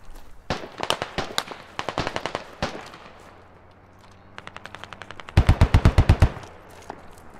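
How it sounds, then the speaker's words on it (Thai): Bursts of automatic rifle fire from enemies in the military shooter game Squad, with rapid rattling volleys and scattered single shots, some distant and some loud and close, and a heavy close burst near the end. "ระวังตรงแนวอาคารมีศัตรูยิงมา"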